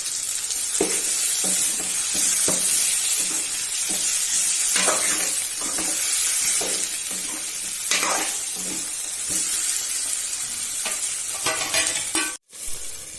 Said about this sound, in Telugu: అలాగే మనం మసాలా వేసుకున్న వంకాయల్ని నూనెలో వేసుకోవాలి.